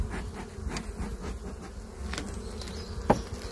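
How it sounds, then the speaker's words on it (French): A dense, steady buzz of many honey bees in a hive fills the air up close, with a brief knock or bump near the end. "c'est rempli d'abeilles"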